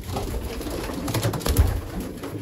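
Breeding pigeons or doves coo inside a nest box, low soft throaty calls rising and falling close to the microphone with no talk.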